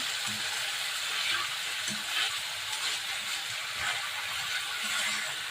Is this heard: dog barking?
no